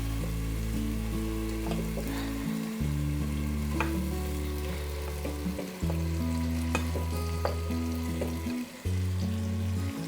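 Lamb liver fries in an onion tomato masala as it is stirred in, a steady sizzle with crackles and occasional scraping, set over a loud low sustained tonal hum that shifts in steps, with no talking.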